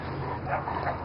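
A Great Pyrenees dog gives soft close yips and whimpers in a brief burst outdoors.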